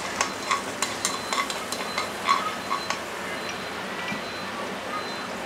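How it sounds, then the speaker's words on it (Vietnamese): Minced leeks sizzle steadily in hot cooking oil in a pan for a vegetarian sauce, a close, even frying crackle with scattered sharper pops and stir-scrapes, no voices. "Cho cái dầu baro vô. Cái baro băm á."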